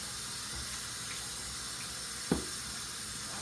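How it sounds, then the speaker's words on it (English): Food items being washed under a running kitchen tap, an even rush of water with one brief knock partway through. "I'll wash these 2 items up."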